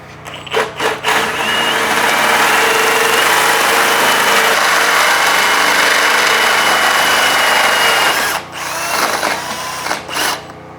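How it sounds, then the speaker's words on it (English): A tubing notcher cuts through metal tubing with a loud, sustained grinding whine that runs steadily for several seconds, then drops and trails off in short bursts at the end. "let's go see how the tubing notcher works."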